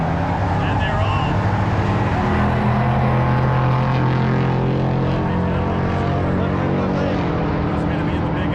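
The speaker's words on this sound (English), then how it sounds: "So let's go watch some drag racing." Drag racing cars at a drag strip roar loudly and continuously, with engine drone and crowd noise filling the air; a voice can be heard talking over it.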